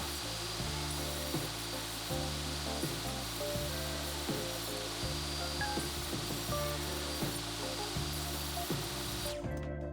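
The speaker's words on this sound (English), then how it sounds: "I found that the foam board is probably the easiest thing I'll ever cut on this table saw." Table saw running steadily for about ten seconds while square two-inch strips are cut from foam board, a loud continuous motor hum with faint rhythmic changes as the soft material feeds through, ending abruptly.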